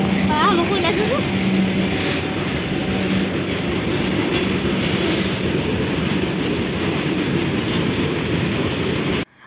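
A train rolls through a railway station platform with a loud, continuous rumble and clickety-clack of wheels, faint voices briefly audible near the start, before the sound cuts off abruptly.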